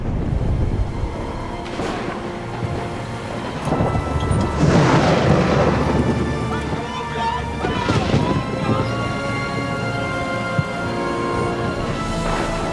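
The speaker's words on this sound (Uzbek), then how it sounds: "Qattiq bo'ron chiqib, ko'lda do'lqin ko'tarilyotdi" Loud rolling thunder rumbles through a steady downpour of rain during a strong storm, swelling in the middle, with a voice speaking over the storm.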